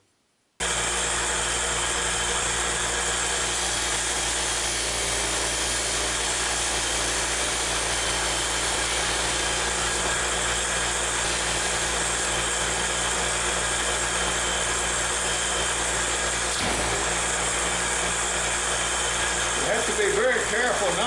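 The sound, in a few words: knife blade ground on a finer-grit grinding wheel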